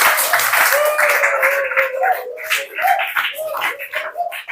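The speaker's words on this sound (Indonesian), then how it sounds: "Tepuk tangan untuk kita semua." An audience claps together at the close of an Indonesian sharing session on e-seal and e-sign implementation, a dense, steady patter with voices and a held tone mixed in underneath.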